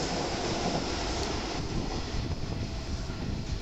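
Sanyo Electric Railway 5000 series limited express train passing straight through a station without stopping, a loud, continuous broadband rush and rumble of wheels and wind that holds steady throughout, with no talking.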